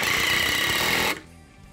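An 18-volt Porter-Cable cordless drill runs a screw in with a loud, steady, buzzing whir that stops abruptly after about a second, leaving quiet room tone.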